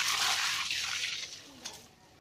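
A mug of water dumped onto a small fire that won't go out: a rushing splash that starts loud and fades over about two seconds into a faint trickle.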